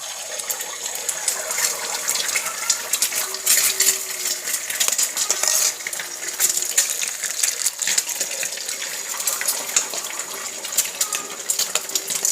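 Beaten eggs for an omelette poured into hot ghee in a frying pan, giving a steady bright sizzle and crackle throughout, close and moderately loud, with faint clinks of utensils and no talk.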